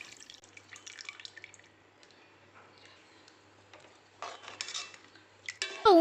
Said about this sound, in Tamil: இந்த ஸ்டேஜில் நம்ம வந்து கரைச்சி வச்சுருக்க புளி தண்ணியை இதில் வந்து ஊற்றிக்கலாம்.